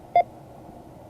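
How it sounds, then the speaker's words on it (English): A single short, clean Morse code beep, the 'dit' of a ham radio sign-off, sounds briefly and moderately loud over a faint, steady background hiss. "Dit dit is typically the way that we say, you know, the final goodbye."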